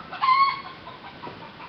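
A prize farm rooster crows once near the start, a short bright call that fades, leaving quiet background hiss.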